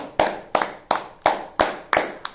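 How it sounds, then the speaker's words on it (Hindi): Hands clap in a slow, steady rhythm during an online public speaking competition's result announcement: seven sharp, close claps evenly spaced about a third of a second apart, with no talk. "सो जोरदार तालियां हो जाए"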